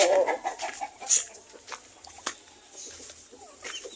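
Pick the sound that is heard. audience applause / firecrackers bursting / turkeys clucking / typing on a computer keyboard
turkeys clucking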